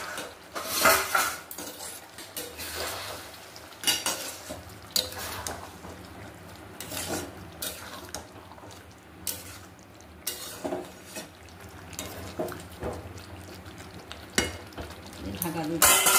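Chicken cooks in a pot with water just added. Sizzling hisses under repeated metal-on-metal stirring scrapes and clanks of spoon against pot, close and busy, with brief louder bursts throughout.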